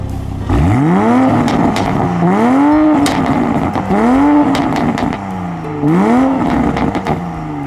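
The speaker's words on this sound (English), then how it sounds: "one other distinctive thing in back is the sound of this car. I have to say, it sounds pretty good." A 2020 Toyota Supra's engine and exhaust rev up close by in four rising sweeps, each climbing in pitch and then dropping off, with sharp crackles between the pulls and no talk.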